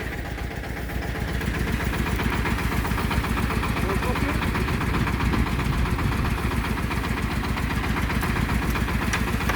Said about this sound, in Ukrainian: Включив самосвал поки що піднімає.